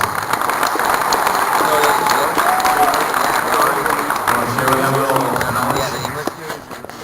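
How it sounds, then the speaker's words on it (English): An audience at an anime convention's industry panel applauds steadily and loudly, with dense sustained clapping mixed with crowd noise and some cheering voices before it fades near the end. "we'll give her a round of applause"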